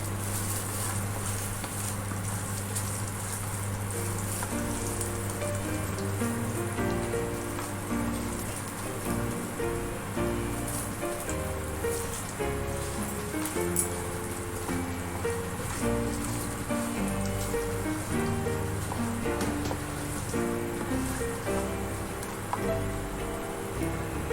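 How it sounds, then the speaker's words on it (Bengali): Finely chopped ginger frying in a pan for a jackfruit guli kabab rice dish, a steady close crackling sizzle with dense pattering spits throughout, no talk over it. "আদাটা ভেজে নেব।"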